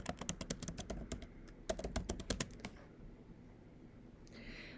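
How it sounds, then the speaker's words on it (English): Rapid clicking keystrokes on a computer keyboard, close and fairly quiet, a quick run of taps for about two and a half seconds before stopping. "So I'm going to type was counting."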